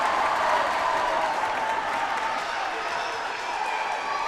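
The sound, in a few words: crowd cheering and applauding at volleyball match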